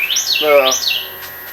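A bird sings two quick swooping chirps in a row, close and clear, with a brief low coo-like tone between them.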